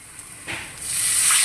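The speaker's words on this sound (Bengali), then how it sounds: "এবার আমি দিয়ে দিচ্ছি পরিমাণ মতো জল।" Water poured into a mustard pabda fish curry masala in a pan, a soft splashing hiss that starts faint and swells steadily louder, close by with no talking.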